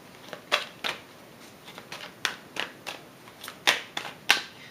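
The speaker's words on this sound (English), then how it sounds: "Of course, I shuffle the cards beforehand." Tarot cards being shuffled, a run of crisp papery riffles and slaps arriving in uneven bursts, close and moderately loud with nobody speaking.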